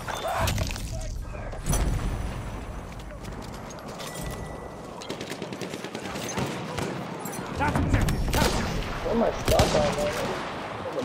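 Machine gun fire in a video game: scattered bursts of rapid gunfire, loud and near at times, especially late on, mixed with other battle noise while people talk over it.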